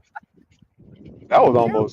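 A dog out on a walk through a residential neighborhood barks and whines loudly up close for about half a second, after a stretch of low, quieter rumbling and a few faint taps.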